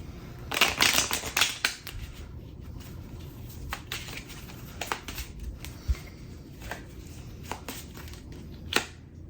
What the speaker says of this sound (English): let's hop right on in and get into shuffling some cards